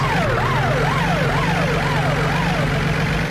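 Police car sirens in a racing video game wail in a repeated rising and falling sweep over a steady low engine drone, loud and continuous throughout.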